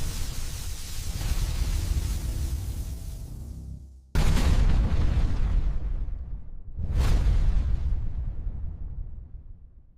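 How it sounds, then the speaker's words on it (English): Dramatized explosion effects for the Piper Alpha oil platform disaster: a long rumbling roar fades out, then two sudden deep booms burst in, each swelling loud and decaying into a heavy rolling rumble. "The explosion rips through the control room, walls vanish in a flash of light, glass shatters like ice."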